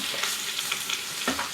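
Whole chicken set skin side down into a hot Instant Pot, a continuous close sizzle with a few sharper crackles and a stronger burst near the end, no talk.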